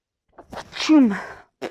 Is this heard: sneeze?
yes